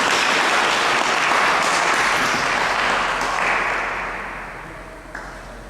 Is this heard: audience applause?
yes